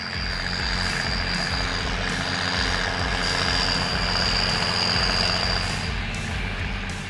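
A 2005 Massey Ferguson 8480 continuously variable transmission tractor engine drones steadily and loudly throughout, a constant low rumble with a faint high whine, no talk.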